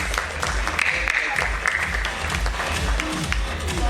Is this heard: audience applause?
yes